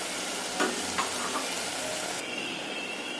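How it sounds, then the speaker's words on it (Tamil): A homemade tomato ketchup mixture of tomatoes and sugar simmers in a pan, a soft, steady bubbling sizzle with a few light clinks, quiet and continuous with no voices. "இதுவுமே ஒரு 5 நிமிஷம் நல்லா சிம்லே இருக்கட்டும்."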